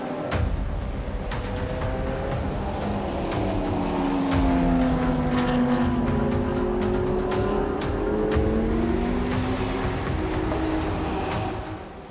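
Race cars roar past during the late stage of a race, engines rising and falling in pitch as they sweep by, with a sustained loud drone and sharp clicks over it.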